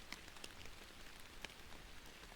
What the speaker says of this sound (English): We can just sit and enjoy the rain